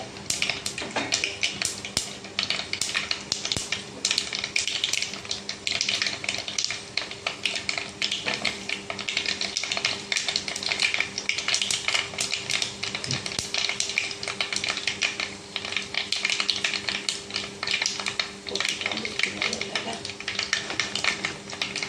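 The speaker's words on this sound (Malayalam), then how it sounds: "കടുക് പൊട്ടുന്നുണ്ട്." Mustard and fenugreek seeds pop in hot coconut oil while a mackerel curry is started. Dense, steady crackling and sharp pops continue for a long stretch, close and fairly loud, over a faint steady hum.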